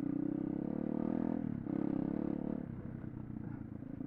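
A pit bike engine ridden around a yard, a loud buzzing single-cylinder drone that holds steady, dips briefly, surges again, then eases to a rougher, quieter idle-like putter.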